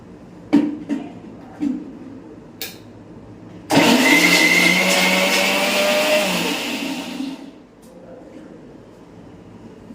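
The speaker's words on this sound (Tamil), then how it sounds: "நம்ம தக்காளியை வந்து இந்த மாதிரி கட் பண்ணி மிக்சியில் சின்னதாக ஒரு ஓட்டை ஓட்டிக்கலாம்" Cut tomatoes briefly pulsed in a kitchen mixer grinder: a few handling clicks and taps, then a loud whirring grind for about four seconds that winds down and stops.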